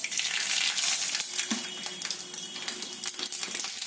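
Dry red chillies and mustard seeds sizzle steadily in hot oil, a close, bright crackling hiss with scattered small pops throughout.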